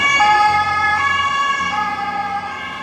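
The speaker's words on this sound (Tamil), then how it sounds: "ஆம்புலன்ஸ்" An ambulance siren wailing loudly and close by in Zurich, Switzerland, a continuous rising and falling tone over faint traffic rumble.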